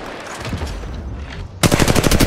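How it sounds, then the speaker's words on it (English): Gunfire in the mobile shooter Apex Legends Mobile begins as a muffled rumble and then breaks into a loud, rapid burst of automatic shots near the end, with no talk. "Yeah, getting shot at."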